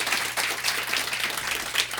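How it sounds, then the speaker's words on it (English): A studio audience gives a steady round of applause after an interview mention of a band's debut EP, dense clapping filling the clip evenly with no talk over it. "That deserves a round of applause"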